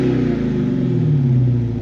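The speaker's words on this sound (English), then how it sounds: "just like every other Hellcat version that we've driven, it sounds incredible" A 2020 Dodge Charger Hellcat Daytona wide body with a 718 hp supercharged V8 rumbles and revs through its exhaust, a loud, steady deep growl heard up close.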